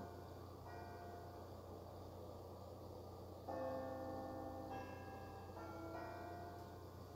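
A bell tower in the video game Syberia chimes out the marriage song, clear ringing bell tones sounding in a slow sequence over a steady low background hum, growing fuller partway through.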